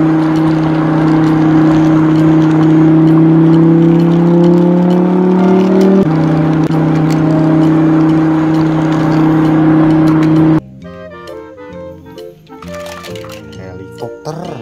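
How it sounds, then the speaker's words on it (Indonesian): A car engine hums and revs steadily at close range, shifting pitch midway, then cuts off and gives way to light music. "Mobil sedan berwarna putih."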